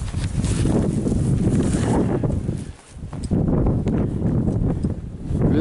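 Strong wind gusting on Blue Mountain Peak in Jamaica, loud buffeting roar against the microphone that briefly dips midway before surging back.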